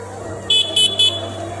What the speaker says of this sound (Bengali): একটা গাড়ি আসছে পিছনে